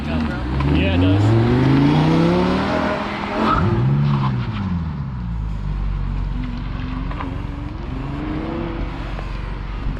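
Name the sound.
Lamborghini Huracan doing test laps on a track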